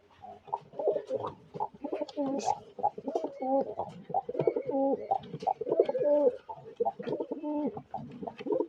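A pair of pet pigeons or doves, male and female, coo repeatedly in rhythmic, throaty phrases close by, with someone talking over them at times.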